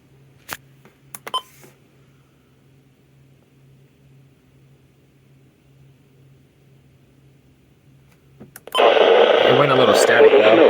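EAS emergency alert broadcast of a blizzard warning, long stretch of low hum and faint clicks followed by a sudden loud burst of harsh broadband static that continues steadily to the end.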